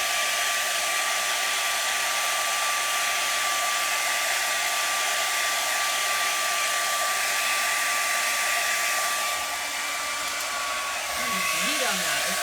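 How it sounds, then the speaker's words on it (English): A hair dryer blows hot air steadily and loudly over craft paint on a Thanksgiving tiered tray frame, a constant whooshing hum for the whole stretch, easing slightly near the end as it is moved. "Let's grab my dryer and I'll dry it"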